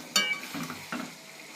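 Fried potatoes being stir-fried in spice masala for an egg and soybean curry, a spatula scraping the pan in a few short strokes over a gentle sizzle, close and quiet.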